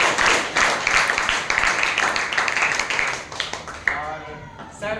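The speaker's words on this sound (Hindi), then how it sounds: "तो हम चाहेंगे सर के लिए एक बार जोरदार तालियां बजाएं।" Enthusiastic applause from students in a maths class breaks out for the teacher, dense clapping that gradually thins before a voice begins speaking near the end.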